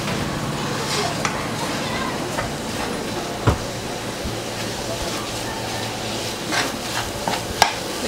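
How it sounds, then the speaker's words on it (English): Sausage browns in a hot pan for keto stuffed bell peppers, giving a steady close sizzle and crackle broken by occasional sharp scraping knocks from the spatula. "you want to take your sausage, put it in a hot pan. Get that all nice and browned."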